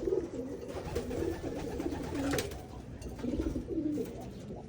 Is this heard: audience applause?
no